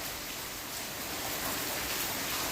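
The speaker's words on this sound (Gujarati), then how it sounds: "વરસાદે હારો છે અને પવને હારો છે" Heavy rain lashes down amid strong wind, a dense unbroken roar of rainfall filling the whole stretch with no talk.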